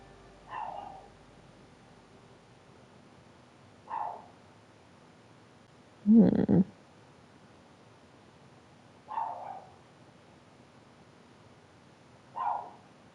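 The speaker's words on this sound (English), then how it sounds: "Also, I'm so sorry if you can hear my dog barking." An old dog barks from somewhere off in the room, single faint yips spaced a few seconds apart, with one louder double bark in the middle, over quiet background hiss.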